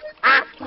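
A cartoon duck in the children's animated show Peppa Pig gives a single short, nasal quack, loud and close, briefly standing alone between quiet moments.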